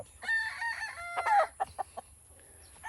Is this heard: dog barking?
no